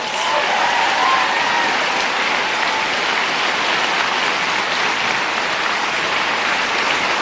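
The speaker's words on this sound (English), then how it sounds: "Give them all a round of applause." Sustained applause from an audience at a volunteer campaign rally in Melbourne, a dense, steady wash of many hands clapping at close range, holding evenly loud for the whole stretch without a break.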